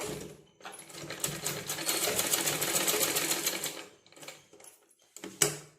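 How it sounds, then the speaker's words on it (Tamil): A sewing machine runs a fast, even stitching burst as lining is sewn to the main cloth, about three seconds of rapid needle clatter, then brief pauses and a short final whir, fairly close and quiet. "லைனிங்கையும் மெயின் கிளாத்தையும் சுற்றி ஒரு ஸ்டிச் போட்டுடலாம்."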